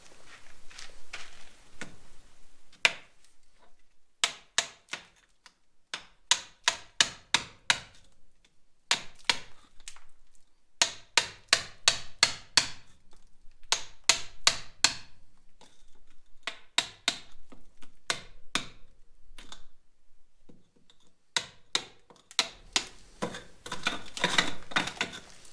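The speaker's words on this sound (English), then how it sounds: "I need to chip out all of the small stones that are blocking the way" Small stones being chipped and scraped out of an old stone wall in a house under renovation in central Portugal, heard as bursts of sharp, close metallic taps in quick runs, separated by quieter scraping and short pauses.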